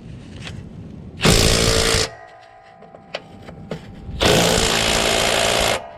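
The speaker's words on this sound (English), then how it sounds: "I'm just gonna tighten these bolts with a 1/2 inch impact." A 1/2 inch impact wrench tightens bolts on a Briggs and Stratton Quantum engine of a Craftsman lawnmower, two loud close bursts of rattling hammering, each under a second long, with quieter shop sounds between.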